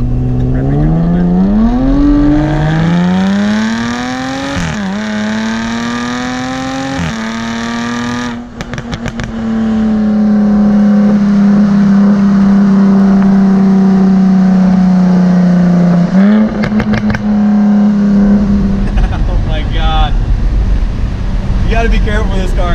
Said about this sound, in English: We're gonna rev it here a little bit.